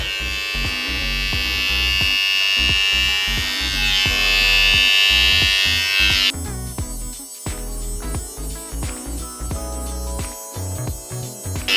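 A Braun MGK 7020 electric beard trimmer buzzes steadily close up, its motor pitch shifting partway through as it cuts beard, continuous and loud.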